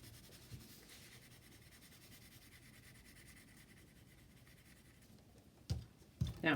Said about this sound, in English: So as I move the pencil, I'm constantly changing my pressure.